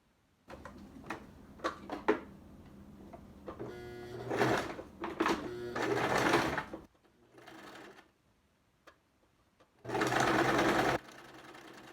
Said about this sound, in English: So you're going to put the right sides together and sew again 1/4 inch margin along the nose bridge.